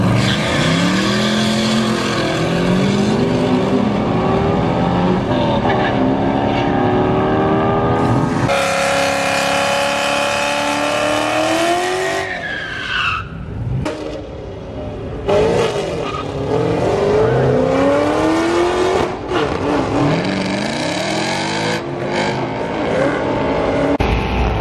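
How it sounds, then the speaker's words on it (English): Race cars tear around the track at Mission Raceway, with engines revving, shifting and roaring past in a loud, continuous wash. Rising and falling engine pitches overlap throughout, and there is no talking. "I can hear cars ripping."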